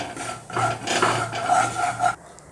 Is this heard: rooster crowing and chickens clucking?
no